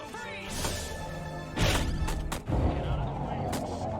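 In the Destroy All Humans! remake, heavy explosions and gunfire boom in a few loud bursts under a steady background rumble, with someone talking between the blasts.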